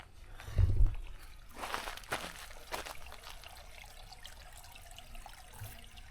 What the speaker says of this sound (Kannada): ನೀರು ಹರಿತಿದೆ.